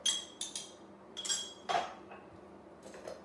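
A spoon clinks and scrapes against a bowl while flour, milk and bicarbonate of soda are mixed into a dough, bright metallic taps in short irregular bursts, close and fairly quiet, with no talk.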